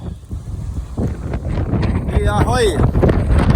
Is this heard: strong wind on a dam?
yes